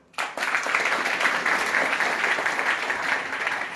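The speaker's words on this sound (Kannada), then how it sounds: "ಜೋರಾಗಿ ಚಪ್ಪಾಳೆ ತಟ್ಟಿ." An audience at a celebration breaks into loud, sustained clapping that begins suddenly and continues steadily, a dense wash of many hands close by.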